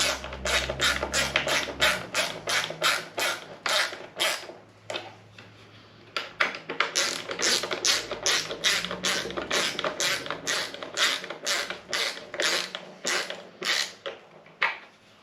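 Parts are screwed together while an F-Press is assembled, producing long runs of rapid, crisp ratcheting clicks with brief pauses between bursts.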